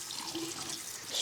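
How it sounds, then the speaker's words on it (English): Cold water runs steadily from a tap into a sink while clothes are being rinsed, a continuous close hiss and splash with no talking. "Get some nice, clean, cold water."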